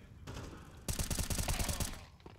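Gunfire in Counter-Strike 2 during a CS2 Masters 2024 esports match: a steady, loud automatic burst of rapid shots that stops abruptly, over a constant background hum.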